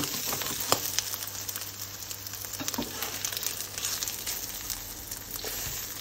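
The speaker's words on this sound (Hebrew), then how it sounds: "וזה טיגון בעצם." Something frying in oil in a pan with no water, a steady close sizzle with crackling pops throughout, no voices.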